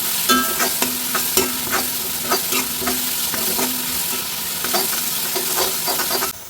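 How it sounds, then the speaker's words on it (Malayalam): Kurkka (Chinese potato) masala with tomato and green chilli being sautéed in a pan, a loud steady sizzle punctuated by repeated spatula scrapes and stirs in a quick irregular rhythm, close up with no talking. "ഇതിൻ്റെ പച്ചമണം മാറുന്നത് വരെ വഴറ്റി കൊടുക്കാം."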